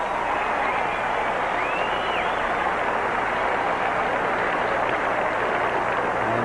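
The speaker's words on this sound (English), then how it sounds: "As you watch Gabby acknowledge the cheers from the crowd." Spectators at the 1992 US Open tennis championships cheer and applaud in a steady, fairly distant roar of clapping that fills the stadium without a break.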